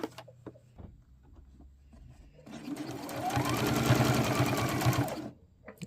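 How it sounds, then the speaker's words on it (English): Sewing machine stitching the binding on a quilted Christmas tree, starting after a few light handling clicks and taps, then a steady, fairly loud close whirring run of about three seconds before stopping. "I'm stitching this one from the binding side and I'm going to start at the bottom again at 1/4 of an inch"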